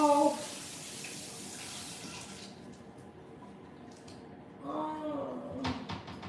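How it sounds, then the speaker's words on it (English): Running water from a kitchen tap rinses a small plate, a steady broadband rush that stops partway through, then returns with some clinks and splashing; a voice speaks faintly in the background. "Let me wash my little plate off."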